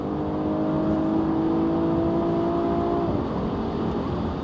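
A 2024 BMW M440i Gran Coupe accelerates hard in a drag race, its engine note rising in a steady whine before a gear change around three seconds in, heard loud and continuous over wind and road noise.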